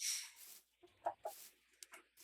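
A Minecraft chicken gives a few short, soft clucks in quick succession, faint and isolated with little else around them.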